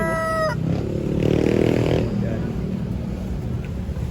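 Fighting roosters crow one after another amid a busy, noisy market background, with a long drawn-out crow in the middle and lower clucking around it.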